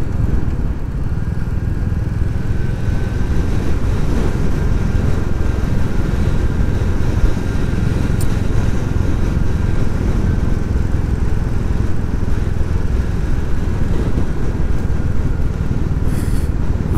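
A Royal Enfield Classic 350 motorcycle engine drones steadily and loudly throughout a Saturday afternoon ride in the Peak District, mixed with constant wind rush, past farmland and with no speech.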